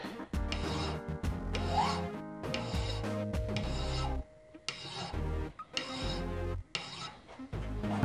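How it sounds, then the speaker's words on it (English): Metal file strokes flatten workpiece ends on a watchmaker's lathe, a series of close, rhythmic rasping rubs, about ten strokes separated by short pauses. "So now we're going to file the ends flat."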